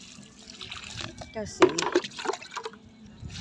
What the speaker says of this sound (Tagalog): Didilig tayo.